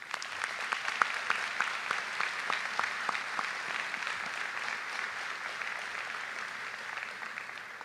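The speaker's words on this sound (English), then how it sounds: "One more round of applause for Malia, please." An audience at a 2023 school commencement ceremony applauds steadily for a student, a dense, even wash of clapping with a few sharper claps standing out, heard alone without speech.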